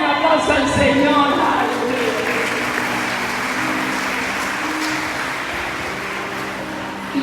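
A church congregation applauds in a steady, dense wash of clapping that slowly fades, with some talk early on.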